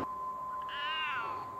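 A house cat meows once, a clear drawn-out mewing call heard up close indoors against a steady background hum.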